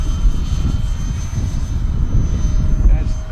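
An FF Viper 50 model jet flies in high wind at half throttle, its engine a steady, loud rushing roar that holds level throughout, with wind buffeting and some talk over it.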